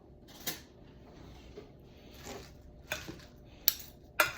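Salad of pinto beans and purple cabbage being tossed in a bowl: soft clinks and scrapes of utensils against the dish, with a few sharper knocks, fairly quiet and irregular.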